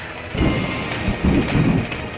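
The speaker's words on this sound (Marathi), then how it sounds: "केवढा हा पाऊस" Heavy downpour pounding steadily, a dense broadband roar with low rumbling swells like distant thunder, loud and continuous with no voices.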